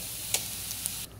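Dal (lentils) boiling in a pot on a stovetop, giving a steady close hiss of bubbling with a couple of faint pops and no voices.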